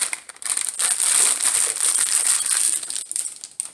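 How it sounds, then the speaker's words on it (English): Paper crinkles and crumples up close in a continuous rustling burst lasting a few seconds, with no talking. "Sorry for the paper noise."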